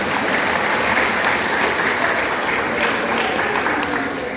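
An audience claps for their chairman at a Malay world gathering, dense steady applause filling the room without letup.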